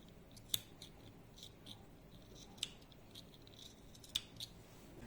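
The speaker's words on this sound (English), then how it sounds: "I'm taking a sharp scissors in my hand and cutting the edges." Sharp scissor snips trimming the edges of a yarn fringe, a few isolated crisp cuts spaced over several seconds against a quiet background.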